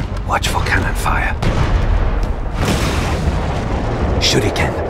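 Cannon fire in the stealth game Shadow Tactics, with heavy booms and rumbling blasts under shouted character dialogue and battle noise.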